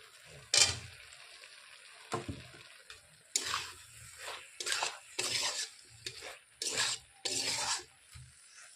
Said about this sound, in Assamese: আৰু এতিয়া মই দি দিম আলুখিনি।